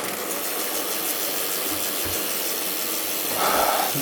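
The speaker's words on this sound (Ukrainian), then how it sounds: "можна подивитися, яким чином працює заднє колесо" The rear wheel freewheel of a cheap Chinese bicycle fresh out of the box ticks with rapid, faint, even ratchet clicks as the wheel spins, close by in a quiet room.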